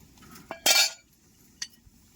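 Dishes, pots and utensils being washed outdoors clink a few times: a bright metallic clatter near the middle, then a single sharp clink, with quiet gaps between.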